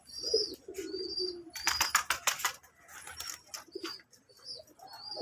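Native pigeons at a pigeon farm coo softly near the nest while feeding young, broken by a burst of rapid clattering wing flaps and scattered chirps, moderately close.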